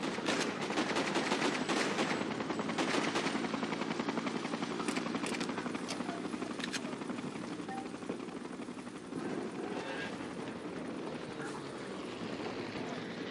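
Gunfire rattles through a battle in the Freedom Fighters video game as soldiers shoot, with repeated bursts and single cracks over a steady droning background, fairly faint and with no talk.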